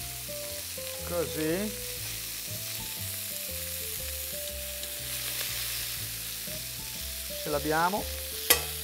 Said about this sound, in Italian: La carne deve rosolare velocemente, proprio fare una bella reazione di Maillard